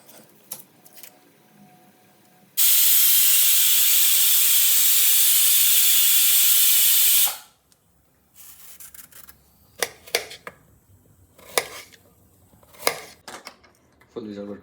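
A pressure cooker lets out a full whistle, a loud, steady, hissing blast of steam lasting about five seconds before cutting off, with kitchen clatter and people talking before and after it.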